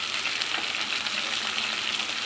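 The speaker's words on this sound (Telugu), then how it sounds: "ఇప్పుడు మనం కడిగి పెట్టుకున్న క్యాబేజ్ వేసేసుకోవాలి" Washed cabbage added to hot oil for a cabbage curry, a loud steady sizzle and crackle of frying, close and continuous with faint stirring scrapes.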